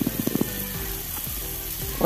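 Spice masala of chilli powder, garam masala and turmeric frying in a pan, with a steady close sizzle throughout and a few scraping stir strokes near the start and again at the end.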